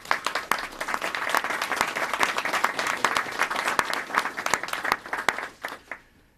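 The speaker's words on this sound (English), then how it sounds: "Big round of applause for these great leaders." A crowd applauds leaders at a press conference update on Hurricane Harvey rescue and recovery. Dense, lively clapping with sharp individual claps carries for several seconds, then tapers off and stops abruptly.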